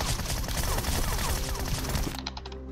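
Rapid gunfire in PUBG Mobile rattles in a dense, continuous burst of close shots for about two seconds, then cuts off into a few trailing clicks.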